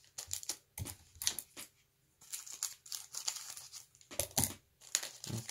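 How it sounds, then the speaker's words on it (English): Booster pack wrappers for Magic: The Gathering Ixalan cards being snipped open with scissors, a series of close, crisp crinkling and tearing bursts with brief pauses between packs, no talking. "I'm going to be opening these with scissors because I don't want to be fumbling around."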